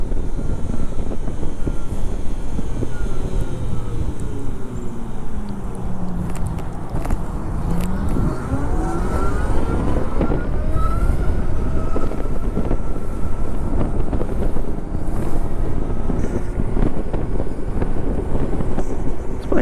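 A Zero electric motorcycle rides along with a rising and falling motor whine that sweeps in pitch as it speeds up and slows, over constant loud wind and road rumble.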